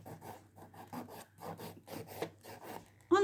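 A nail file rasps across acrylic false nails, stripping off green polish in a steady series of short rubbing strokes, close and fairly quiet, ending with a brief louder knock.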